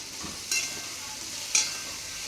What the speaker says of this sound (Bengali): কুমড়োটা একটু নাড়াচাড়া করে এর মধ্যে ইলিশ মাছের মাথাগুলো দিয়ে দেবো